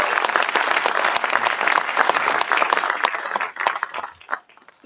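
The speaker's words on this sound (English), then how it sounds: "Everyone, please, round of applause for Andrew McNair" An audience gives a business event's speaker, the founder and CEO of Swan Capital, a welcoming round of applause: dense, fairly loud clapping that holds steady for several seconds, then thins into a few scattered claps and fades out.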